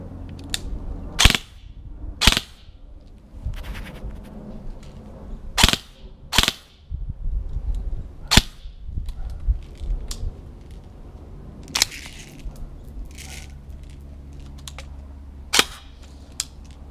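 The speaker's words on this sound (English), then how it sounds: "now I'm gonna try a 3-round burst now." A G&G ARP9 airsoft gun fires in sharp, snappy cracks spaced a second or more apart, close and loud, with faint clicks and handling noise between shots.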